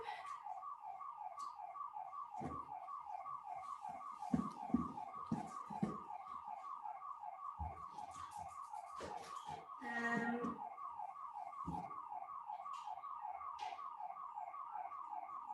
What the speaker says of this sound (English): Yeah, and alarm going off.